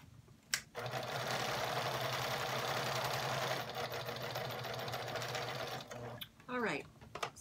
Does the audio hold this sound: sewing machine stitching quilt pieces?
yes